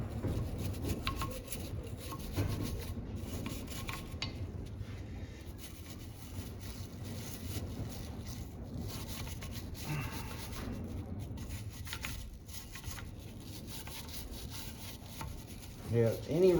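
A brush scrubbing rust off a Chevy 350 V8 cast-iron cylinder head, a continuous close bristly rubbing and scraping with irregular strokes, with brief faint speech near the end.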